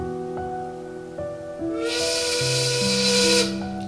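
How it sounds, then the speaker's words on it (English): A steam whistle blows to signal that time is up at an outdoor art institute gathering in Philadelphia. It plays shifting tones, then swells into a loud, hissing blast of steam before fading out. "Oh, there's the whistle. Looks like we're almost out of time."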